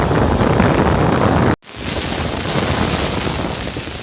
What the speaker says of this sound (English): What I'm doing now is putting some air back into the tire because it's getting a little soft